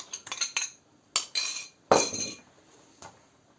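Metal whisk clinking against a bowl while beating boiled sugar syrup with swollen gelatin into a marshmallow-style glaze, a few quick bursts of close clattering strokes separated by short pauses.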